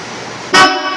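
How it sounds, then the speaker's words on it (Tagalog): A Maruko horn fitted to a Toyota Hiace Commuter Deluxe van, wired through a Bosch relay, gives a single short loud blast that cuts in abruptly over a quiet idle and then fades back down. "Gumagana din yung Maruko horn."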